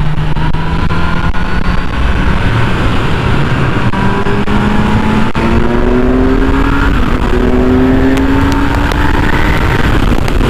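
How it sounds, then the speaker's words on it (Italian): A loud Kawasaki Z900 (2020) motorcycle engine rises steadily in pitch as it accelerates in fourth gear, droning continuously up close with no talking. "ho aperto, ma la moto prende subito"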